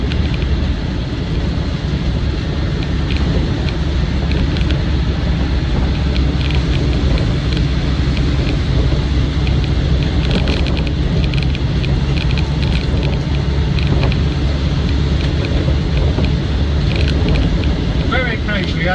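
Land Rover Defender 90 300TDi Wolf soft top diesel engine drones steadily while driving, a continuous low rumble with road and wind noise throughout, a voice talking faintly over it.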